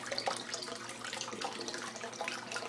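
Water rushes steadily through the drains of a 29-gallon aquarium at full flow, a close continuous gurgling splash with bubbly churning and no pauses.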